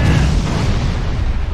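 Ship cannon fire in the VR naval combat game Furious Seas: a continuous heavy rumbling boom with dense low-end blasts, loud and sustained throughout.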